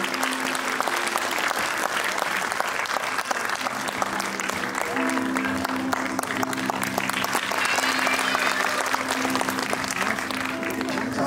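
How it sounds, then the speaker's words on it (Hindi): Sustained audience applause at a school annual function, a dense steady wash of clapping lasting the whole stretch, with a faint tonal hum or music underneath. "जोरदार तालियों से स्वागत कीजिए"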